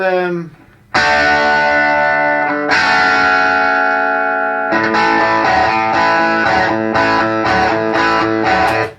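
Loud electric 12-string guitar chords played on a T-Wave Magneto ring out with heavy effects and distortion, sustained strums then choppy rhythmic hits, close and alone without talk.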